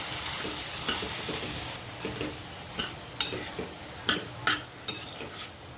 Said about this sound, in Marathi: सर्व मिक्स करून घ्यायचं आहे व्यवस्थित तेलावर परतून घ्यायचे आहेत सर्व भाज्या